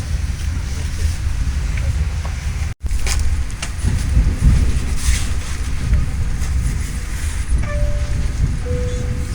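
Steady low rumble of an Indonesian passenger train rolling along the rails, with a brief dropout early on and faint higher tones near the end.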